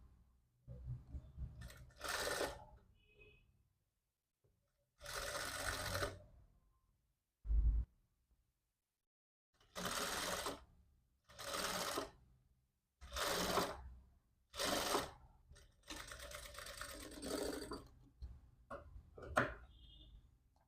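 A sewing machine stitches a 1/4 inch seam on the neck piece of a princess-style back-opening jacket, running in about seven short bursts of whirring separated by silent pauses, close and fairly quiet.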